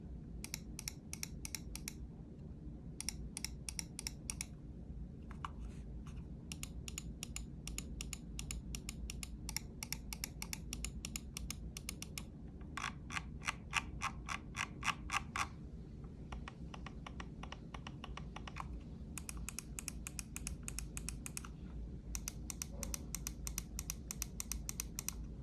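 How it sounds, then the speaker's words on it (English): Logitech G Pro Superlight mouse buttons click in quick rapid bursts, sharp and close, a steady series of light tapping clicks separated by short pauses, faint and alone. "So these are what all of the buttons sound like on the G Pro Superlight."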